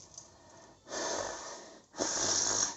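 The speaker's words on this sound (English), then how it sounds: "Heavy breathing." A person breathes heavily, with two long, loud breaths drawn in and pushed out one after another, each a rough, wheezy rush of air, heard close and alone.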